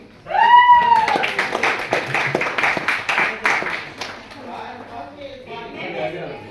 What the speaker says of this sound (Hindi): तो उन सभी के लिए ताली जो समय बोला था उस समय पर पहुंच चुके।